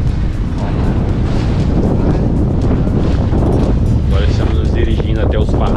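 A speedboat motor drones steadily beneath strong wind and rushing water as it departs carrying about ten people toward the Parrachos reefs at Rio do Fogo, Brazil, loud and continuous throughout, with people talking over the noise.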